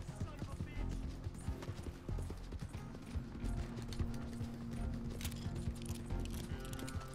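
Horse hooves clip-clop in a fast gallop in Red Dead Redemption 2, a steady busy rhythm of close thuds under constant game noise and music, with a short whinny.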